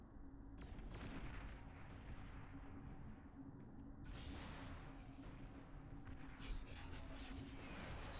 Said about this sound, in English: Those rockets.